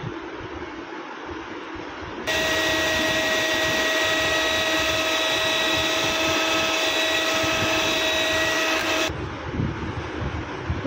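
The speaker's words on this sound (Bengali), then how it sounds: "হুইপ ক্রিমটাকে ভালো করে বিটার দিয়ে বিট করে নিতে হবে।" Electric beater whipping cream for almond chocolate walnut ice cream, a steady loud whine with sharp tonal overtones that starts abruptly, runs continuously for several seconds, then cuts off, over a constant background hum.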